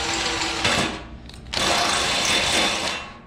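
A power drill whines loudly in two bursts, grinding steadily through metal on a Harbor Freight welding cart with a short pause between, close up and without talk.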